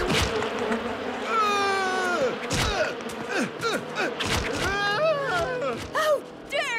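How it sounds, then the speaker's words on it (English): Cartoon wasps buzz in a busy layered swarm, with rising and falling whines weaving through a thick drone, thumps and gasps between them, and voices speaking. "How dare you attack innocent wasps!"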